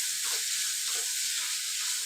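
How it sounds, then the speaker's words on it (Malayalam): Ginger and onions sauté in hot oil in a pan for a fish curry, a steady close sizzle with a few soft stirring scrapes and no talk. "സവാളയുടെ നിറം മാറി വരുന്നത് വരെ നല്ലവണ്ണം വഴറ്റി കൊടുക്കുക"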